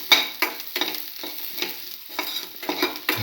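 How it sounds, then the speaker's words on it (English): Beef liver being sautéed with garlic and salt in a pan, close and moderately loud, with repeated stirring scrapes every half second or so over a steady low sizzle. "saute again"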